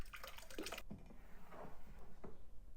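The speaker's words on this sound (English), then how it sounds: "I'm just gonna pour it to strain it, put it into glass jars" Liquid poured through a strainer into glass jars, a wet splashing pour that cuts off abruptly, followed by softer drips and trickles close by.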